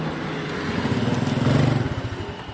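A Honda Win motorcycle engine is briefly revved up close, the note rising into a fast throbbing burst and then easing back down within a couple of seconds.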